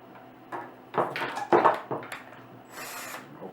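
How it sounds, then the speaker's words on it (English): A power drill in forward spins a tip-up spool to wind fishing line on, whirring in short, uneven bursts close by with brief pauses between them and no talk. "So what that means then is the drill will need to be in forward position."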